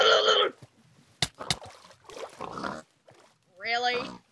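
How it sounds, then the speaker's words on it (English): Pig oinks in a PVP video game, one burst at the start and another near the end, with short spoken voices and clicks in between. "Did you seriously just spawn pig?"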